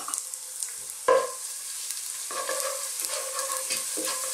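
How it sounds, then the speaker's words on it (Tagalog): Garlic and ginger sauté in cooking oil for a Filipino green bean and pork dish, a steady bright sizzle with a sharp burst of stirring near the start and a few softer scrapes later, close and with no talk. "maggigisa lang tayo. Umpisa natin sa garlic. Sabay na rin po natin yung ating luya"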